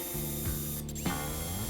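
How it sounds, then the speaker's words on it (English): A power drill bores pilot holes in a wooden picture frame, a steady whining motor hum with pitch shifts as the bit bites and slows, close and continuous. "I'm coming in and drilling pilot holes and countersinking all of those holes"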